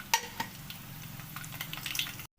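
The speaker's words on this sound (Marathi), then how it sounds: "जिरीचे मस्त फोडणी तडतडली की त्यामध्ये साठवणीतील काळा मसाला टाकायचा" Cumin seeds sizzle and crackle steadily in hot oil with a few sharp pops, close and fairly loud.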